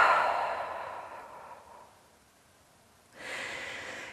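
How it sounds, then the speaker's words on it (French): Pranayama breathing exercise: a long open-mouthed exhale with a relaxed throat, breathy and close, fading over about two seconds, then a quiet pause before another breath begins, with no talk over it. "Ouvre la bouche, expire, la gorge complètement relâchée."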